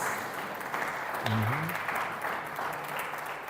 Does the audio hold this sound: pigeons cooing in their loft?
no